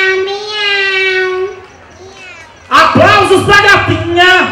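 A voice imitates a cat's meow during a lively Brazilian game show anniversary broadcast: a long wavering meow, a softer one, then a loud, sharp burst of several strained meows close to the microphone.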